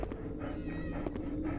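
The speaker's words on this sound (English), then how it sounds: "I heard a cat." A cat meows in the survival horror game Haunting Ground, a few short mews over a dense, steady low background drone.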